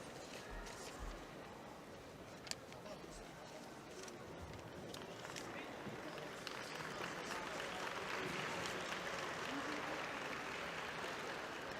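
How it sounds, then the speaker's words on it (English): Polite applause from a tennis crowd at the Grand Prix Zagreb tournament, a steady spread of scattered clapping that builds gently and holds for several seconds, fairly faint and distant. "So a polite round of applause for Barbara Matic"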